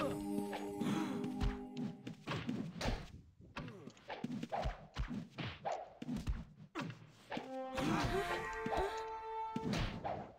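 A ship is smashed during a naval battle in the video game Ultima Online, with repeated heavy crashes and thuds over busy, layered in-game effects and music, loud and close throughout.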